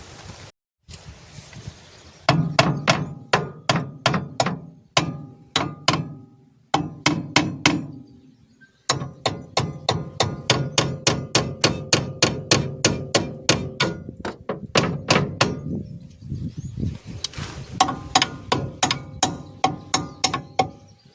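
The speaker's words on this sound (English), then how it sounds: "I'll have to get a pulling bar and lightly tap it with a hammer" A hammer taps a pulling bar on a classic Morris Minor car in a yard, dozens of sharp metallic strikes in rapid, rhythmic bursts with brief pauses between runs, loud and close.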